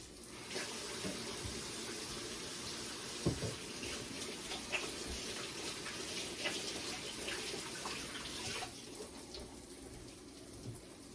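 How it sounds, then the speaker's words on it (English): Running tap water splashing over hands being washed at a kitchen sink while cooking tacos, a steady close rush of water with small splashes and clatter throughout before it eases near the end. "And I'm washing my hands again."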